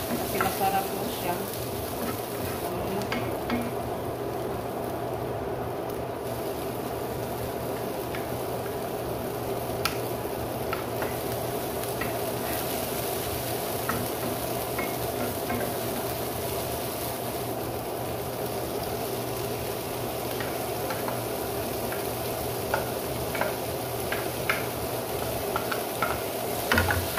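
Vegetable lumpia filling frying and being stirred in a pan, a steady sizzle with frequent scraping stirs, close and continuous throughout with no talk.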